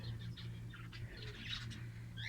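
Lovebirds give a quick series of faint high chirps and short squeaky calls over a steady low hum, close and continuous for a couple of seconds.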